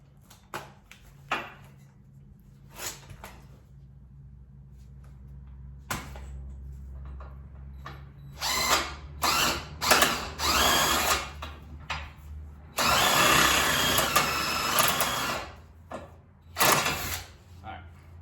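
A power tool hammers at a stubborn nut on a Subaru Legacy's suspension during ball joint and axle work, firing in several short bursts and one longer run between quieter handling noises.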